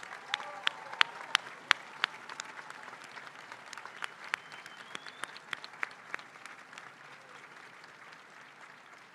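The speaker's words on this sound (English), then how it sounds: "Let's give all those students a round of applause." Applause at a spring commencement ceremony for civil engineering graduates: a large audience claps steadily in a hall, a dense patter that fades toward the end.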